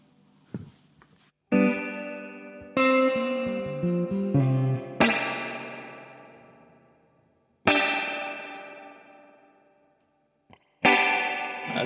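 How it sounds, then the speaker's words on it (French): Clean electric guitar through a drippy spring reverb, surf style: a few chords and single-note runs, each struck loudly then ringing out in a long, splashy reverb tail, with pauses between phrases. "C'est typiquement la reverb de drip."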